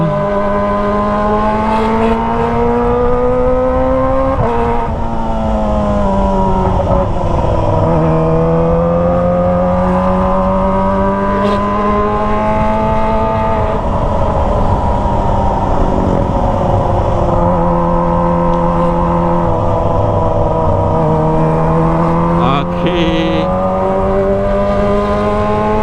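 A Kawasaki ZX25R motorcycle with a Toce aftermarket exhaust holds a loud, high-pitched inline-four drone, rising and falling through repeated revs and throttle blips, close and sustained with no talk.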